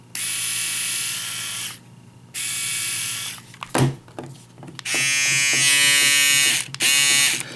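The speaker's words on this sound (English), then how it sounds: "compare that to my Philips Norelco" A Philips Norelco electric shaver hums in several bursts of varying length, starting and stopping with brief mechanical clicks between runs, close and fairly loud.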